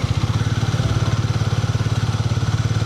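Harley-Davidson motorcycle engine running smoothly while riding, a loud, close, evenly pulsing low rumble throughout.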